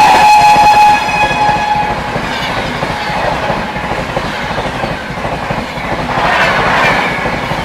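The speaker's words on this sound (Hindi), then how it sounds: "पीछे से आती हुई 12423 डिब्रूगढ़ न्यू दिल्ली राजधानी एक्सप्रेस" The 12423 Dibrugarh–New Delhi Rajdhani Express comes up from behind and passes close by, its horn sounding at the start before a loud, steady rolling clatter of wheels and carriages takes over.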